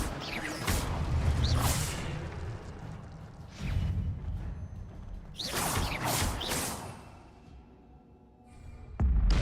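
Fiery spell bursts from Hogwarts Legacy combat: several loud whooshing, crackling blasts in quick succession, with a heavy thump near the end and game effects rumbling underneath.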